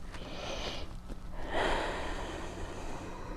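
A close, audible breath during a downward dog yoga pose, with a sharp airy inhale and exhale, soft and near with no talking.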